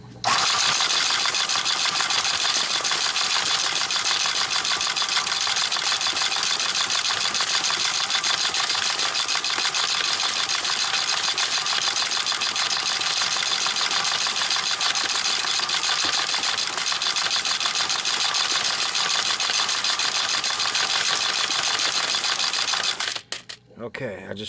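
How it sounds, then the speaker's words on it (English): A Rydell coin sorting machine runs with copper pennies, giving a loud, steady metallic clatter and rattle of coins that holds unbroken for about 24 seconds, then cuts off abruptly as the machine is switched off. "the convenience of an off and on switch on this Rydell machine"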